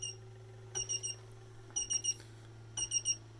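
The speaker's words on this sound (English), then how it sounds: "stock LCD screen is just beeping. I suppose that's some sort of self-test." Stock LCD screen on a 3D printer with an MKS Gen L board beeps during power-on self-test: three groups of three short, high, fairly quiet beeps, evenly spaced, over a steady low electrical hum.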